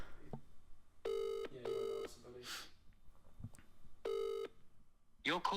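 Telephone keypad tones from numbers being pressed: a few separate sustained dialing beeps in an irregular sequence, clear and close, with brief talk and noises between them.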